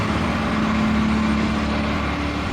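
A loud truck rumbles past outdoors near a car detailing job, a deep steady engine roar with a low droning tone that stays strong throughout.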